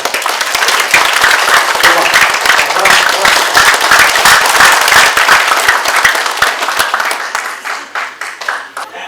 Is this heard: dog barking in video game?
no